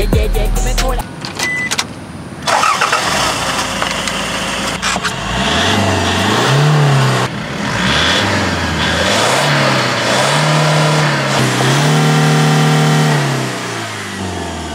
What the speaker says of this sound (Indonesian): Selepas tukar dua exhaust custom.